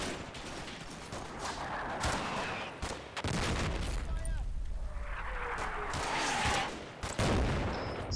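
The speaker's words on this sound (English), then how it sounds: "Finally, battalion artillery starts to fall." Battalion artillery barrage in the WWII wargame Combat Mission, at the Odon bridges, with dense rumbling impacts and sharp blasts layered over continuous battle noise, loud and sustained throughout.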